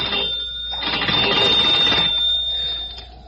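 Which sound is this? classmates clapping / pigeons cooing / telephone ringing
telephone ringing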